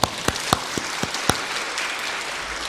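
Church congregation applauding a Korean choir after a Sunday afternoon praise service, a few loud distinct claps at the start giving way to a softer, steady patter of clapping hands.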